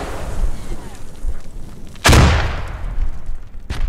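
Frag grenade going off in a multiplayer squad-based shooter game, a single heavy booming blast that rings out and decays, with scattered gunfire pops and radio chatter around it.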